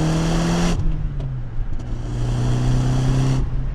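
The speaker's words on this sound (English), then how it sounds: "Oh man, can't get enough of that blow-off noise." Saab 9-3 Viggen turbo car driving, engine drone with a sharp blow-off valve release as the throttle lifts, then the engine pulling again, heard up close from inside with no talk.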